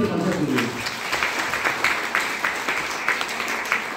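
An audience clapping at a DXN business seminar speech: steady, moderately loud crowd applause with dense overlapping claps and a few sharper individual hits throughout, over a faint hall hum.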